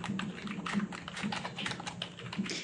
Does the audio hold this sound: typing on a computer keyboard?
yes